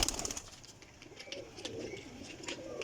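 Pet pigeons from a breeder's flock coo softly and steadily close by, with faint chirps and light rustling in the background.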